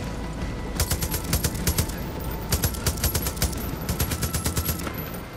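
Repeated bursts of rapid gunfire in the shooter game Far Cry 5, several loud volleys of automatic shots with short gaps between them, heard over constant game background noise.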